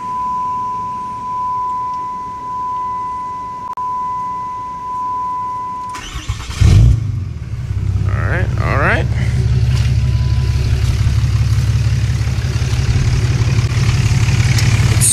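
A Dodge Cummins diesel engine with the crankcase vent deleted cranks over and fires up, then settles into a steady, loud, close idle, with a high tone and quiet talk earlier in the clip.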